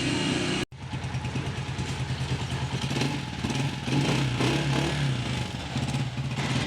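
Repaired Honda CG 125 motorcycle engine running at a steady idle, an even thumping putter with light mechanical clatter, close and continuous after a brief cut at the start, with no talk.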